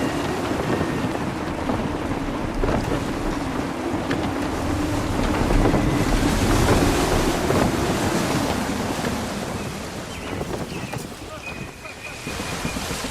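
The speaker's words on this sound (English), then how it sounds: "Gusty winds can be difficult to manage." Wind gusts roar around a sailing ship in the Assassin's Creed 3 game, with waves washing against the hull in a constant, loud rush and a voice calling out over it.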